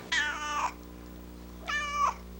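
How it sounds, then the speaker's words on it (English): Two distinct cat meows, each drawn out and fairly loud, separated by a short pause over a low steady hum, with no talk. "Those cats sure like you, Joey."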